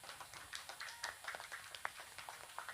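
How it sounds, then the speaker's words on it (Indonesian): Quiet, scattered applause from an audience at a gathering of Islamic boarding school students, with many small claps running throughout and no clear talking. "tepuk tangan"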